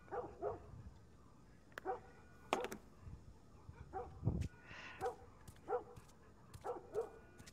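A dog in The Last of Us Remastered barks again and again in short, evenly spaced bursts at moderate loudness over a quiet game background, with one low thud partway through.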